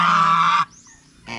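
A pet goose gives one long, loud nasal honk lasting over half a second, then a pause and the start of another honk, kept alongside turkeys and ducks in a yard.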